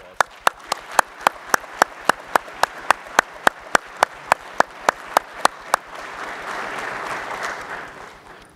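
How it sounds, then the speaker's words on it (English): Audience at a trainee class graduation ceremony claps in a steady, evenly spaced beat of sharp, crisp claps. The claps then break into a fuller, sustained wash of applause near the end. "Please join me in a round of applause."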